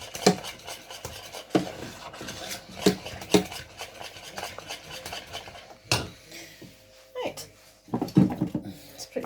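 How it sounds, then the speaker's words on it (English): Spoon stirring melting cheese sauce in a metal pot on the stove, with irregular scraping clinks and rubs against the pan at close range, some louder knocks, and a voice talking at times. "So I'm going to keep stirring so that the cheese all melts nice and even."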